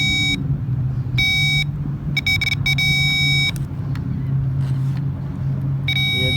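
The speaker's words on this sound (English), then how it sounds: "In this terminal, you hear the beep." Repeated electronic beeps from a window switch in a 2008–2011 Dodge Caravan or Chrysler Town and Country, in short bursts, some in quick clusters, over a low steady engine rumble inside the car.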